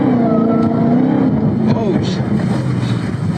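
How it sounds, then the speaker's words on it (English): A car speeds along a rain-soaked road, heard from a played clip: a loud, sustained engine drone with rising and falling revving pitch and a hissing, spray-like wash underneath. "He just got going so fast his car lost traction because it's raining out"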